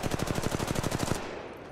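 A rapid automatic burst of gunfire in Apex Legends Mobile, around a dozen evenly spaced shots fired close and loud before cutting off abruptly.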